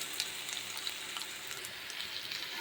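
Chopped potatoes fry in a pan with cumin seeds, a steady soft sizzle and crackle with faint pops that holds even throughout, no talking.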